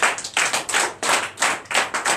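Congregation at a Sunday church service clapping in acclamation, a fairly close, rhythmic burst of hand claps in uneven pulses, with no voices over it.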